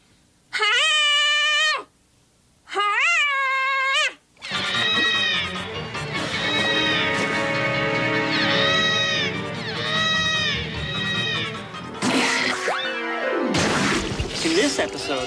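A human voice imitates a Parasaurolophus dinosaur call, starting with two loud, sustained, wavering tonal hoots. A longer, rough, warbling bellow follows with rising and falling pitch, ending in a strained, noisy burst.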